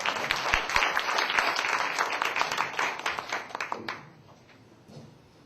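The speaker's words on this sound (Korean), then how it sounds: "박수 부탁드립니다" Audience applause at a church presbytery camp forum, a dense wash of many hands clapping that holds steady, then thins and fades out after about four seconds, leaving a few scattered claps.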